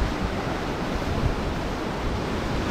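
Sea waves on the shore at Charrana near Nador in northern Morocco, heard as a steady, loud, broadband wash of surf with wind buffeting the microphone and no break in the roar.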